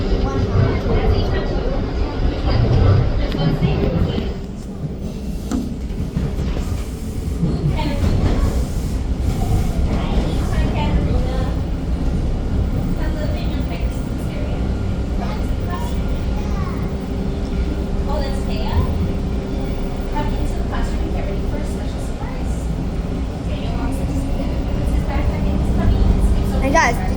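Toronto TTC subway train riding along Line 1/2 Bloor-Yonge produces a steady loud rumble and rattle of wheels on track, with occasional squeals and people talking over the ride.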